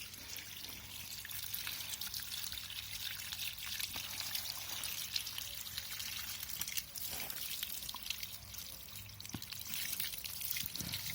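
Water drains steadily out of a Bestway Easy Set paddling pool, a continuous quiet trickling and pouring rush that lasts without a break.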